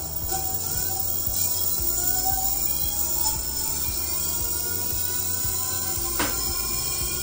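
A 48/60V 1200W 17-inch e-bike hub motor spins on a test bench, giving a steady mechanical whir with a faint repetitive ticking and slowly rising tones as the throttle increases, close and alone.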